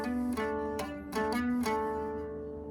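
Electric guitar phrase, played with hammer-ons: a few quick clean picked and hammered notes ringing out, quiet and alone.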